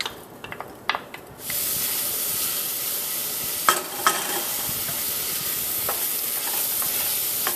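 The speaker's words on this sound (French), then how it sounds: "on fond notre beurre et on va faire risseler nos oignons pour qu'ils deviennent translucides" Onions hitting melted butter in a pot: a few light knocks, then a sudden loud, steady sizzle and hiss that keeps going, with occasional spoon scrapes, close by.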